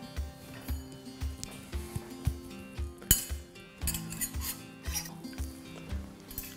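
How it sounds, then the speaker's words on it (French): A knife cuts a piece of slow-cooked pot-au-feu beef, giving soft clinks and scrapes against a plate or pot under steady background music. "Je coupe un morceau de viande."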